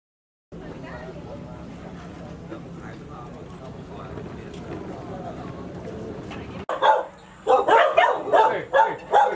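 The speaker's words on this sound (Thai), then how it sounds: "สุนัขพันธุ์บางแก้ว นะครับ" A Thai Bangkaew dog gives a run of loud, close barks in quick succession after a stretch of steady background noise and talk.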